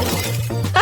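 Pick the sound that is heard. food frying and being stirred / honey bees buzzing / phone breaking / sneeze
phone breaking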